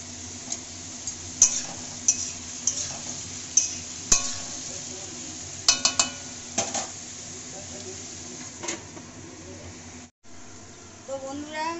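Chopped bottle gourd sizzles in oil in a pan under a soft, continuous hiss, broken by sharp clinks and scrapes of a spatula against the metal and one brief dropout near the end.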